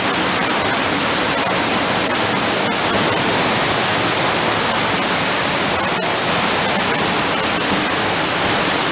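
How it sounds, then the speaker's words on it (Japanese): A waterfall roars inside a limestone cave, a loud, steady broadband rush of falling water with no breaks, filling the space evenly throughout. "もうこれ完全に滝ですもんね。"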